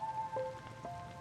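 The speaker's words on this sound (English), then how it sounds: "And now it's raining." Rain falls steadily in Minecraft, a soft continuous patter heard from indoors, with faint tonal game sounds above it and no talk.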